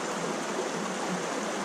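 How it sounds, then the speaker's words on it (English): Jack Creek, a stream running into Little River, flows with a steady, even rush of water, close and continuous without any voices. "This is Jack Creek, and it runs into Little River"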